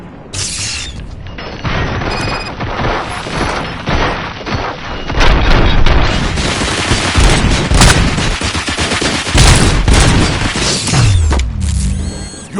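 Heavy gunfire and booming blasts in RoboCop: Rogue City, loud and dense over a driving score, with bursts of shots and crashes running almost the whole way through.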